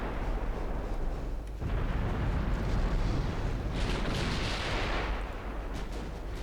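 Heavy naval guns boom continuously in Ultimate Admiral Dreadnoughts as high-explosive shells are fired at destroyers, a dense rumbling barrage with a louder burst of blasts midway, no voices.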